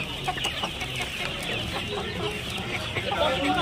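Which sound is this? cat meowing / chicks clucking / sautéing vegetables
chicks clucking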